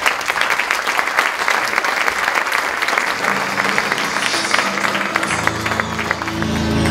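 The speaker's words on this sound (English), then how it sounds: "Please give a big applause to Alexandre Marchac" Sustained audience applause at a TEDx talk in a school setting, a dense wash of many hands clapping steadily for about seven seconds, with a voice and low hum emerging near the end.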